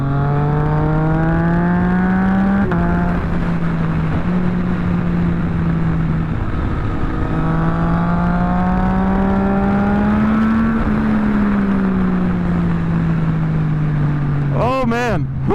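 A Yamaha MT-09 motorcycle is ridden fast through a corner, its engine holding a steady loud drone that rises and falls in pitch as it carries speed, with wind roar throughout and a rider's voice briefly heard.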